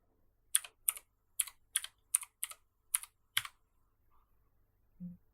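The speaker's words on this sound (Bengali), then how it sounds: "এখানে আমার মেইন রাউটারের ওয়াইফাই পাসওয়ার্ডটি" Someone types a wifi password on a computer keyboard, producing about ten crisp, separate keystrokes in a quiet room, followed by a short low thump.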